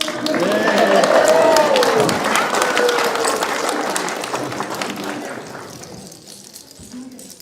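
Loud, continuous applause from a crowd at a museum fundraising event, slowly fading, mixed with voices and a few whistles.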